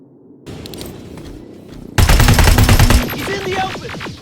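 Rapid machine gun fire in the shooter video game Terminator Resistance, a quiet lead-in of faint shots before dense, loud automatic bursts erupt and continue in a fast rattling rhythm.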